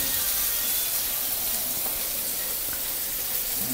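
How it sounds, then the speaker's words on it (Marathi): Fish frying in a pan at home makes a steady, close hiss and sizzle that holds without a break the whole time, with no talking. "तर आता आपण फ्रायला ठेवलेलं आहे"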